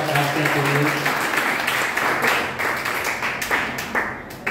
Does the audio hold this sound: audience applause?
yes